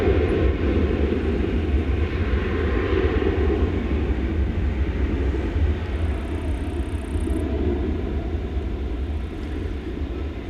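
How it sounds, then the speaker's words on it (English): Sustained broadband roar of an American Airlines Airbus A321 jet taking off at DFW Airport at night, a loud, steady engine rumble that holds throughout without speech. "Off to Salt Lake City goes that American Airlines Airbus A321."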